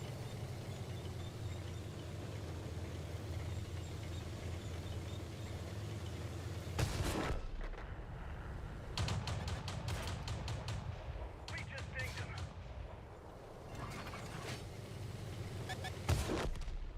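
A tank cannon firing in a WWII armor video game, sharp loud shots and clattering bursts recurring over several seconds against a steady engine hum, with someone talking.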